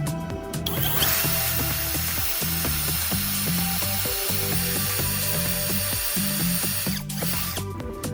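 A power drill bores holes into a section of PVC pipe, a loud continuous whir with a pulsing, grinding rhythm as the bit cuts through the plastic, close up and with no talking.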